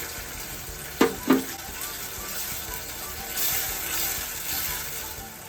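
Peanuts dropped into hot oil in a pan for onion puliogare, with two sharp clatters early on, then a low, steady sizzle and frying crackle.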